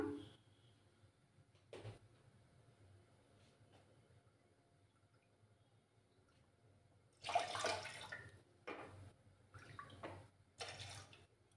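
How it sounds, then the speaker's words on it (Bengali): Amul fresh milk poured into a pot for tea: a quiet start with a brief knock, then several close splashing bursts of liquid running into the pot. "এই যে আমুল তাজা দুধটা দিয়ে দিলাম"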